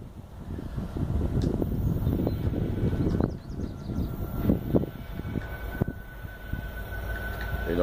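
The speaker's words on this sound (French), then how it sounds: "C'est N403 qui fait son entrée à la gare de Mont-Joli." A CN locomotive rolls into the Mont-Joli station yard, a low rumbling rail sound with clanks and knocks rising and falling, plus wind buffeting the microphone, heard alone without talk.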